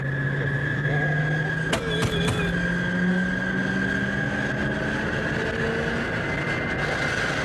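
An old car engine drones steadily throughout at a low pitch, with a rising hum and a few sharp knocks or clanks near the middle, loud and continuous with no talk.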